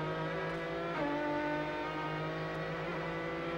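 Ferrari race car engines drone at Mosport during a 2003 American Le Mans Series race, a sustained, moderately distant engine tone whose pitch drops and shifts as the cars run.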